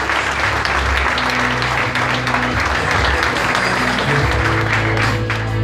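An audience at a GanoExcel business presentation claps loudly and steadily throughout, with dense applause filling the whole stretch.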